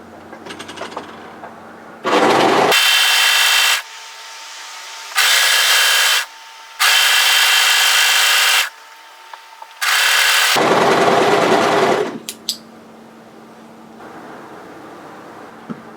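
A sewing machine stitches the long curved seam of a sweatshirt hoodie dress in four loud bursts of whirring, separated by short quiet pauses, with small handling clicks in between and near the end.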